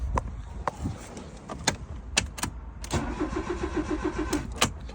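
A Fiat Palio's starter cranks repeatedly in short bursts, the engine churning without catching, close and fairly loud with brief pauses between attempts.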